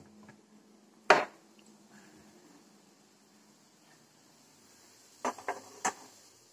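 Peeled potatoes are cut into small pieces with a knife in a home kitchen. One sharp chop lands alone, then a quick cluster of three or four follows, all fairly faint with no talking.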